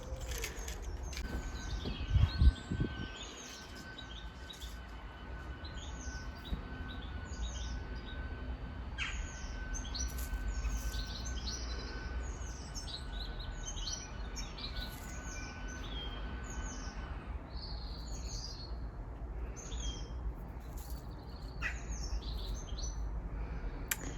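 Several birds chirp and tweet in short repeated calls against a quiet garden background, fairly distant, with a low lawnmower engine hum early on.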